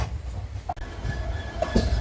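Kannur Express running from SMVT Bengaluru toward Kannur, its wagons rolling over rails with a steady low rumble and faint clickety-clack of wheels, heard from on board, with no voices.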